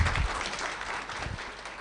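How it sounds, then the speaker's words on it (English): Steady applause from an audience, a dense wash of clapping that swells slightly near the start and continues throughout. "Another round of applause for Madam CEO."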